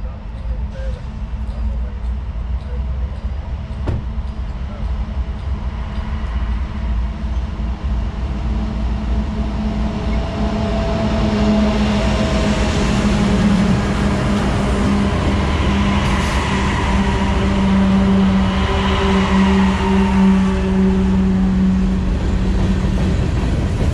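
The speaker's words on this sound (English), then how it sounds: "This one's a manifest train headed from Nashville up to Avon, Indiana." CSX manifest freight train with several locomotives and a rear DPU passing, a steady rumbling roll of wheels and cars that swells partway through, heard continuously from nearby.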